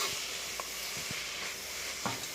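Onions and slit green chillies sautéing in a pan for beef kuzhambu give off a steady, close hiss and sizzle, broken by a few soft knocks of stirring.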